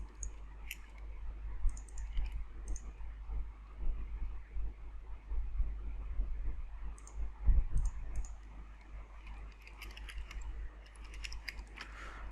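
Sparse, light clicks of a computer mouse and keys come in small clusters against a low background hum, close by and faint.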